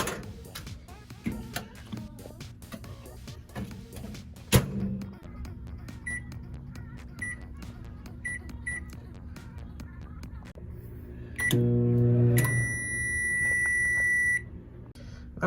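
A microwave oven runs with an SSD inside, humming steadily under ticks and a few faint electronic chirps, then a louder hum near the end followed by a series of short beeps.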